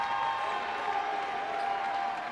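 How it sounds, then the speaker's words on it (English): A basketball crowd at a Pike Lady Red Devils senior night gives a standing ovation: steady, dense applause and cheering that fills the arena throughout, with no break. "the crowd gives them a standing ovation"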